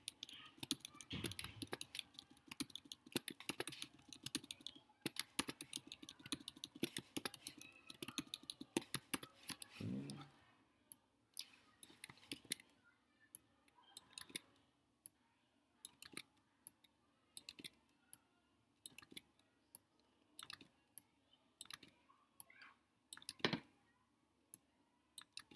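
Rapid clicking of computer keyboard keys while coding a simple Python tic-tac-toe game, dense continuous typing for the first ten seconds, then sparser bursts of individual keystrokes close to the microphone.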